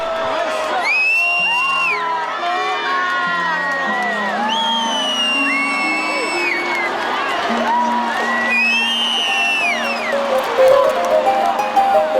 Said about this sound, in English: The festival reaches its greatest intensity when the float is destroyed by the crowd in great exultation.